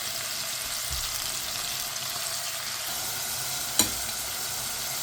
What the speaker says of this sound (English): I'm gonna let all of these saute for a while